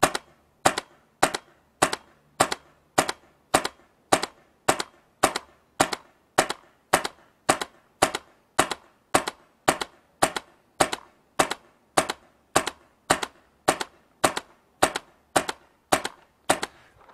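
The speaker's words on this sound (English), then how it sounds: "we're going to shoot 30 shots through the chronograph to get our stock velocity" Phenom paintball marker firing shots through a chronograph, about thirty sharp, evenly spaced pops at a steady rhythm of roughly two per second, close and loud, each with a short decay and no talking.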